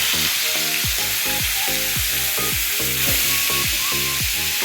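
Steady, loud sizzling of vegetables frying in hot white oil in a wok, for chow mein noodles, with a repeating low rhythmic hum underneath.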